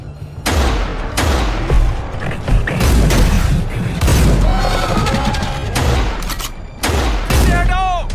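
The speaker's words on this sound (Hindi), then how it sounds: "राइट, कवर फायर दो।" Dense gunfire from a war film battle scene, heavy overlapping bursts and booms of rifles and heavier weapons with mechanical clatter, loud and close, with shouted voices mixed in.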